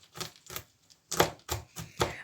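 Onion, celery and carrots being chopped on a board: a series of sharp knife taps in an uneven rhythm, close and fairly quiet.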